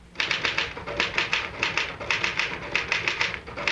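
A typewriter clatters in quick steady runs of keystrokes, close and crisp, each burst of typing separated by brief pauses, with no voices.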